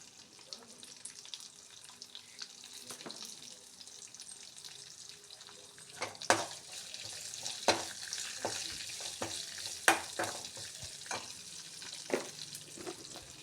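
Asafoetida dropped into a hot oil tempering for a leafy greens sambar, giving a steady close sizzle with sharp crackling pops that grow denser midway, with no voices.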